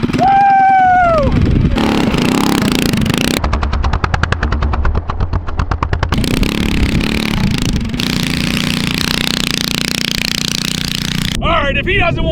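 A mini trike's small engine revs hard while riding in the snow, with a rapid, rattling buzz rising and falling over several bursts, loud and close, mixed with voices and shouting.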